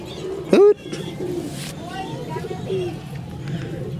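A Teddy Kamagar Kaldom Giribaj pigeon of Omani bloodline coos nearby in soft, repeated throaty phrases, with a brief sharp call early on and people talking in the background.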